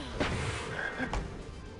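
A frog in the Harry Potter and the Chamber of Secrets video game croaks in a few close, raspy bursts over a steady hiss of game background noise.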